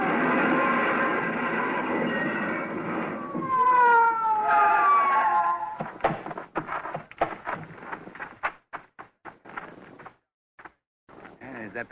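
A police car siren wails loudly during a car chase, its rising and falling tone filling the first six seconds before giving way to scattered knocks and bumps.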